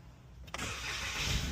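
A car engine being started during quick home servicing in San Juan after crankshaft-related work, a broadband burst catching at mid-clip and settling into a steady, close, loud running roar with no talk.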